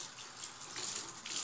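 Warm water running from a household tap in a steady, close gush for a moment, with no talking.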